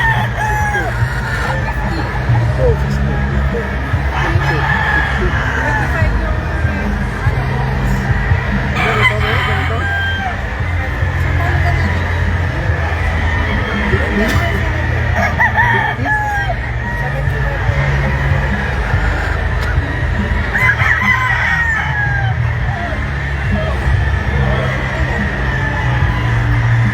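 Gamefowl roosters crowing repeatedly at a poultry expo, several crows rising over a constant din of clucking birds and crowd babble, with people talking nearby.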